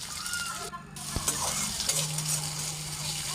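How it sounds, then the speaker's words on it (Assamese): Cumin seeds, kalonji and chopped onion are stir-fried in a hot pan before adding greens and eggs, with a continuous sizzle under scraping stirring strokes and a brief clink of a utensil. "আজি মই হেলেচি শাক আৰু লগত কণী দুটা দি ভাজি বনাম"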